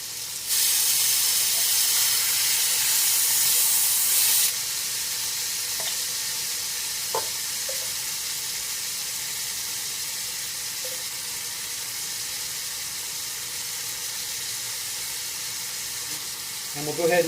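Tri-tip meat and vegetables for chili fry in a pot with a steady broadband sizzle, louder for the first few seconds and then settling into a constant hiss with occasional faint stirring clicks, no talk.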